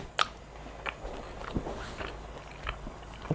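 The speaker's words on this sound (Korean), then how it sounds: "이 목살과 삼겹살 먹어보도록 하겠습니다" Someone bites and chews grilled pork neck and pork belly close to the mic, with crisp wet crunches and smacks in an uneven rhythm and no talking.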